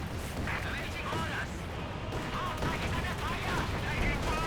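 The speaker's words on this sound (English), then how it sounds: "Another gamma bomb there, this time a light gamma bomb. Explodes some Panzer Grenadiers" Gamma bomb artillery explosions in the Company of Heroes 2 video game, a dense continuous rumble of blasts and battle noise with someone commentating over it throughout.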